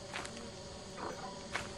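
Insects buzz faintly and steadily in the Lethal Company video game, a low continuous drone with a couple of slightly louder swells, heard alone without talk.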